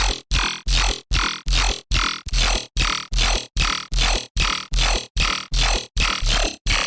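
The Slinky bass synth preset from the Faceplant pack pulses in a steady train of about fourteen loud, gritty rhythmic hits, each short burst rising and cutting off sharply, with no voices over it.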